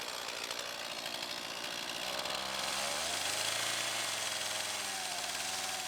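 A chainsaw runs steadily for a chainsaw wood-carving artisan, a continuous raspy engine buzz that swells slightly louder midway and keeps going without pause.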